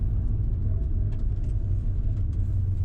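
A Mazda RX-7 FD rolling back to the pits at Sydney Motorsport Park, a low steady engine rumble at gentle speed, muffled and unchanging for a few seconds.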